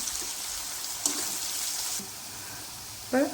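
Onions sautéing in a pan for prawn and mango curry, a soft steady sizzle with a few brief stirring knocks, no talk.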